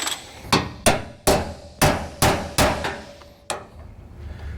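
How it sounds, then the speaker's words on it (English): Eight sharp metallic hammer blows driving axle studs in, evenly spaced and loud, each ringing briefly before the next strike. "I like to use a hammer and go ahead and drive those in as much as I can."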